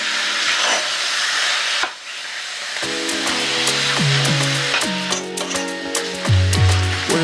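Butter chicken frying in palm oil while being stirred: a continuous loud hiss and sizzle, broken by a short pause and then joined by ringing metallic clinks and scrapes from the stirring.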